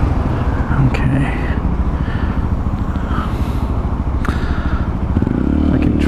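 A Honda Grom motorcycle rides through night traffic on a commute from Santa Monica to Hollywood, its small engine droning steadily and close up amid surrounding car noise and faint clatter.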